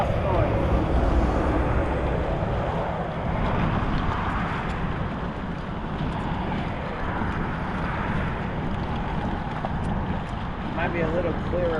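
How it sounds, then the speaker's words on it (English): Steady low rumble of a boat engine's exhaust on a bass fishing outing, a continuous droning roar mixed with wind buffeting the microphone, with a voice talking over it. "Had a lot of exhaust noise."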